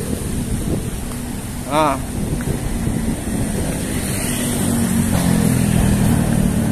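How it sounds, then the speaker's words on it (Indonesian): Strong night wind buffets the microphone in a town square in Surabaya, a steady roaring rumble that builds toward the end, with a brief spoken word near the start. "Wow, anginnya kencang, teman-teman."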